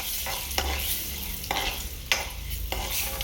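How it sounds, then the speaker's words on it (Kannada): Orange peel with turmeric is stirred and roasted in a pan until browning, a soft continuous sizzle with repeated scraping strokes of a spoon across the pan, about four or five sweeps, close and moderately quiet. "ಚುಟ್ಟಿಗೆ ಅರಿಶಿನ, ಇದನ್ನು ಸ್ವಲ್ಪ ಬ್ರೌನಿಷ್ ಆಗೋ ತನಕ ಹುರ್ಕೋಬೇಕು."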